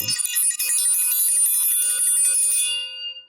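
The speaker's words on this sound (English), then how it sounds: "I'm ringing the bell for that." A bell, likely a desk or service bell, is struck once, giving a bright ringing tone that sustains and slowly fades over about three seconds, loud and close, with no talk over it.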